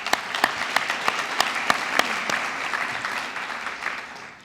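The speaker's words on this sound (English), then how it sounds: "Give yourselves another round of applause" Graduates at a culinary institute graduation ceremony applauding, a full crowd of clapping with a few sharp, distinct claps standing out early, then easing into a softer, sustained wash.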